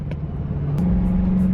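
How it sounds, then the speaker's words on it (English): A car drones along a road in traffic, a steady low engine hum that shifts slightly upward partway through, with faint passing whooshes over a continuous road rumble. "Why is there so much traffic?"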